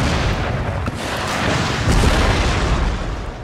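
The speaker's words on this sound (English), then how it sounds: "I might just bombard them for a bit, because that's four batteries of guns with clearly a line of sight" Artillery bombardment from four gun batteries in Empire Total War, a dense continuous rumble of booms and cannon fire rolling together, loud and sustained with no talk.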